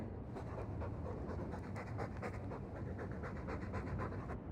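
A dog in Dragon Age II pants steadily and loudly throughout, a continuous rhythmic huffing of breath close up with no talk.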